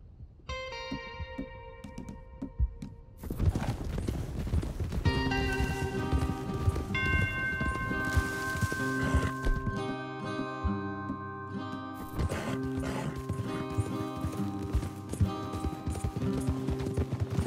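Rapid galloping horse hoofbeats in Red Dead Redemption 2 over a busy, music-laden game soundtrack, loud and continuous with layered effects throughout.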